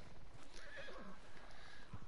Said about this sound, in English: Oh, look at this horse.